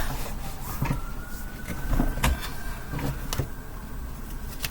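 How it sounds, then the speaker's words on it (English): A siren wails faintly in the distance, a thin sustained tone beneath background noise and scattered clatter. "There's sirens in the background as well."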